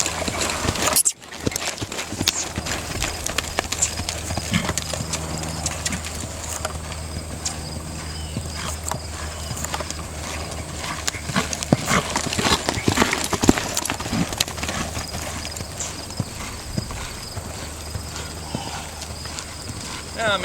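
A four-year-old BLM Mustang mare trotting during refinement riding training, her hooves clip-clopping in a steady, even rhythm for the whole stretch, with a voice speaking at times.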